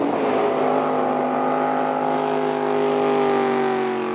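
Gas turbine jet boat racing on the Waiau River in New Zealand, a loud sustained turbine whine with steady harmonic tones that slowly fall in pitch, heard close and alone without talk.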